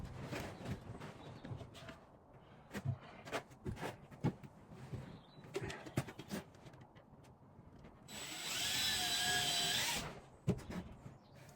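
A power drill whirs for about two seconds in one sustained burst, re-drilling into wood, after a run of scattered knocks, taps and handling noises from nearby work.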